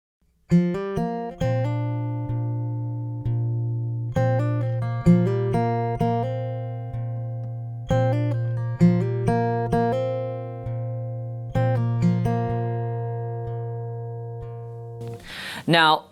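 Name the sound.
acoustic guitar with capo, hammer-ons and pull-offs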